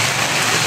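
Steady, dense rain falls outdoors near a mountain, a loud continuous wash of drops with no voices.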